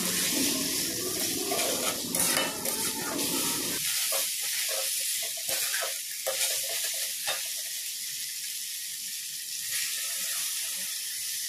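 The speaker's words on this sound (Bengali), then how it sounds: "এরপর আমি দিয়ে দিচ্ছি এখানে পরিমাণ মতো জল।" Water is poured into a pan of pumpkin and chickpea vegetable curry being fried: a loud frying hiss and stirring clatter gives way to a sharp steamy burst, then a quieter sizzle with occasional clinks.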